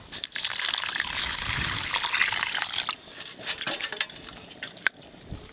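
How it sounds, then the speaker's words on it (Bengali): Mung dal is rinsed with water in a bowl, a close, continuous splashing and swishing at first, then breaking into scattered sloshes and light knocks as the washing slows. "এদিকে আমি মুগের ডালগুলো ভালো করে জল দিয়ে ধুয়ে নেব"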